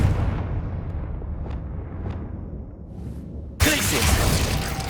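Confringo fire spell blasting in Hogwarts Legacy: a sustained rumbling roar with two faint high cracks, then a sudden loud burst of broadband crackle near the end, no talking.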